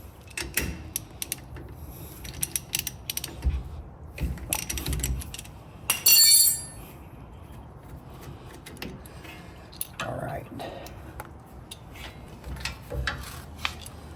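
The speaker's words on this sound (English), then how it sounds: "I'm going to be using a 15mm socket to separate the banjo bolt from the caliper." A 15mm socket on a hand ratchet loosening a brake-line banjo bolt on a Jeep Gladiator caliper, close and fairly quiet, with scattered irregular clicks and a brief burst of louder clatter near the middle.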